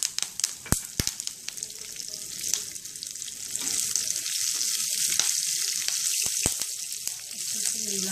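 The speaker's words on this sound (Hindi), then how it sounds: "अभी हम करी पत्ता डालेंगे।" Curry leaves dropped into hot oil for jeera rice and dal fry give a sharp crackle and pop that settles into a steady close sizzle, with faint stirring and no talk.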